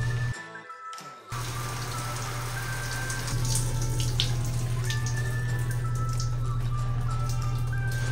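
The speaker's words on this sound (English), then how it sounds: "and filling the harness with water." Water pours and trickles steadily over a Rokslide-style binocular harness under a rain cover, with splashing and dripping close by over a constant low hum. No one speaks.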